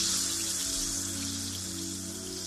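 Vitamin C tablets, one whole and one crushed to powder, fizz in glasses of water, giving a steady close hiss of effervescence over a low, even hum.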